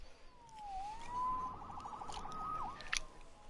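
A police siren from the Spider-Man PS4 game wails in rising and falling sweeps at moderate distance, with a brief sharp click near the end.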